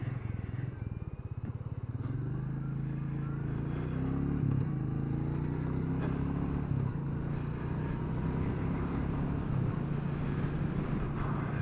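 A Royal Enfield Meteor 350 motorcycle engine drones steadily while riding, with a low throbbing note and constant wind rush, holding fairly even throughout and rising slightly in intensity midway.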